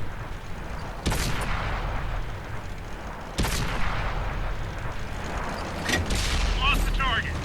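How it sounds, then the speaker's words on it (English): Rapid automatic cannon fire from a T-50-2 light tank in World of Tanks sounds as dense, continuous loud bursts with sharp onsets, someone talking over the barrage. "I'm just holding the trigger down. This thing spits bullets out so fast"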